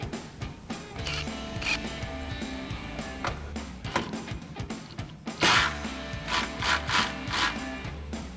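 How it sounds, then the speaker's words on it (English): A 10 mm socket ratchets against a ground bolt on a 2014–2021 Toyota Tundra, giving quick, rhythmic clicking and grinding strokes up close, with metallic taps in between. "we're going to grab our 10 mil socket. We're going to loosen up this ground bolt here"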